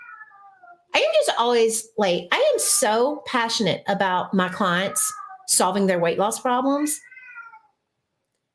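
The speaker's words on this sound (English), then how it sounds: "I don't know if y'all can hear my cat," A house cat meowing at the start and end, faint plaintive cries before and after someone talks steadily close by, with the meows partly beneath her voice.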